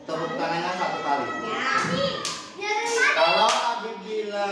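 Children in a classroom clap their hands together with a few scattered claps amid a busy mix of young voices chattering and calling out, close and fairly loud.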